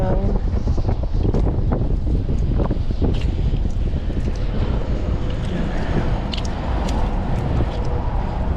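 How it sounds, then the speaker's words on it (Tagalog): Strong wind roars steadily across an outdoor microphone while fish are sorted from a fishing net, a constant buffeting rumble that never lets up through the whole stretch. "Malakas na naman yung hangin."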